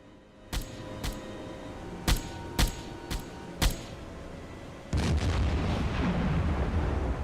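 Six sharp deck gun shots from a WWII submarine, the USS Balao (SS-285), ring out in a naval combat video game, irregularly spaced over a few seconds, followed by a sustained roar of noise.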